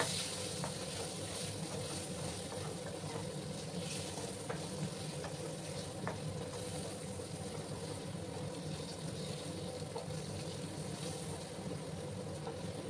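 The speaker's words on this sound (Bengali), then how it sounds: "আলুগুলোকে একটু লাল লাল করে ভেজে নিতে হবে।" Potatoes frying in a pan for a bitter gourd curry, a steady broad sizzle that holds evenly at moderate loudness with a few faint pops, no talking.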